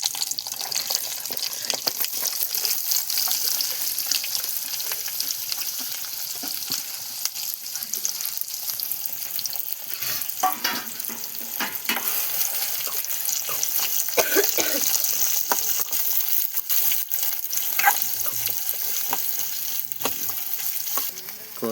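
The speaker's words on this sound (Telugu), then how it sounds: "ఇప్పుడైతే కోసిన ఉల్లిపాయలు వేసుకుందాం." Chopped onions fry with tempering spices in hot oil, crackling loudly and continuously up close, while a spoon repeatedly scrapes and stirs through the pan, with no talk.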